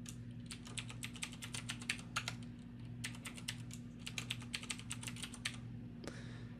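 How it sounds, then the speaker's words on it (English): Keys clatter steadily as a database password is typed on a computer keyboard while installing CubeCart 6 on an Ubuntu Server 18.04 machine, in two quick bursts of close, crisp keystrokes over a constant low electrical hum. "And then we'll put in Bob's password to the database."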